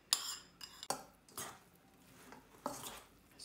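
Utensils clink against a bowl while a roasted vegetable salad is tossed with vinaigrette, a few soft scattered taps and scrapes, close and quiet.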